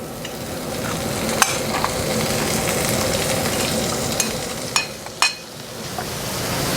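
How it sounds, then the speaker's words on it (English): Pork, bacon and onions fry in a pan, a dense, continuous sizzle heard up close, with a few light clinks of a utensil and no talk. "I add the pork, the bacon, the onions"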